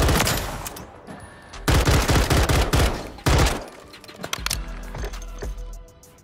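Close-quarter gun firing in Modern Warfare 3 multiplayer, loud rapid automatic bursts in several sharp volleys, separated by brief gaps and followed by quieter scattered shots.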